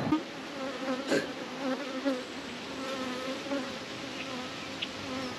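Steady, close buzzing of many honey bees during a hive inspection, a dense droning hum with individual insects swelling louder as they fly near.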